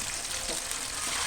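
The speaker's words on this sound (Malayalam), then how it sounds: "കോഴി പൊരിക്കുകയാണ്." Chicken pieces frying in hot oil in a home kitchen, a steady close crackling sizzle that stays even and unbroken for a moment.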